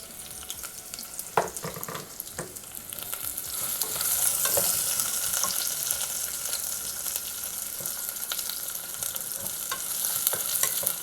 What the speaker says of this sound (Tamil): வெங்காயம் வந்து ஒரு 2 நிமிஷம் நல்லா வதங்கட்டும்.